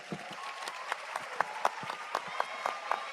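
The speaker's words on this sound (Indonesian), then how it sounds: "Tepuk tangan dong ya." Brief, fairly faint applause from a small audience, scattered individual claps rather than a dense roar, with some background murmur.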